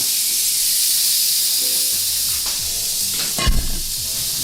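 Steady, bright sizzling of chicken frying in a hot pan, with a louder hiss and clatter near the end as the food is stirred.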